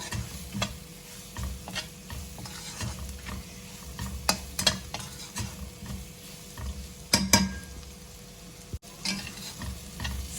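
Spices and vegetables for masala idli stir-fried in a pan, a steady sizzle with repeated scraping stirs and occasional utensil clinks against the pan, close and continuous with no talking.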